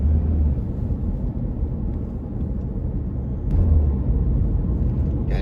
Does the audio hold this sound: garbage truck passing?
yes